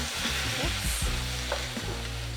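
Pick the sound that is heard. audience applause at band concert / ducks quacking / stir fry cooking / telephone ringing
stir fry cooking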